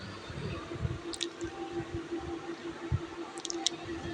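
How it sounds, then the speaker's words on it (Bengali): Wet squishing and lathering of a face being washed with Himalaya neem face wash, soft and close, with faint dripping and no talking. "এখন হিমালয় নিম ফেস ওয়াশ দিয়ে মুখটা ভালো করে পরিষ্কার করে নেব"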